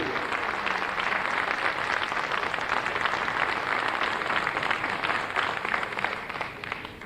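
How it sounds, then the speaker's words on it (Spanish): An audience gives a speaker a sustained, dense round of applause at a formal inauguration event, with many hands clapping steadily before fading slightly at the end. "Queremos agradecer con este fuerte aplauso la participación del profesor José Luis Lacabe"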